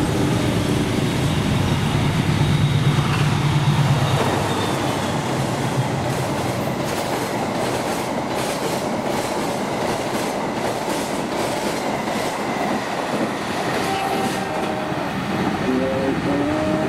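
Train passing through Klari station in Indonesia, a loud nearby rolling roar with rhythmic clickety-clack of wheels over rail joints, fading slightly after a heavier opening stretch, no voices.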